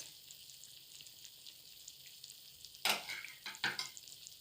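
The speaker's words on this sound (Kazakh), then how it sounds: "Енді осыған фарштан жасалған шариктерімізді осылай бір-бірлеп саламыз." Meatballs of minced meat are dropped one by one into a pot of boiling water, giving two or three brief splashy bursts over a low steady bubbling, heard close with no talking.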